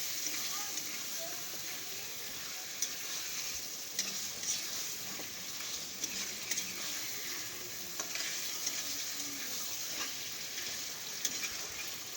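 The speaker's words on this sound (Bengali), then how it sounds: "চিকেন ম্যারিনেট করা চিকেনগুলো আমি ঢেলে দেব, দিয়ে আবারও ভালো করে কষে নেব।" Marinated chicken fries in a pan without water while being stirred, a continuous close sizzle with scattered light clinks and scrapes of the spoon, steady in level from start to finish.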